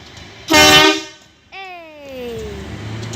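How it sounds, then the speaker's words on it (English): Horn of a departing train, two loud close blasts: a short harsh toot, then a longer tonal blast that slides downward and fades into background noise. "Please blow the horn."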